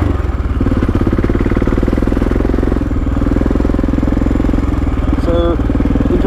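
An enduro motorcycle riding off-road, its engine droning loud and steady throughout with a buzzy, rattling tone and slight rises and dips in revs.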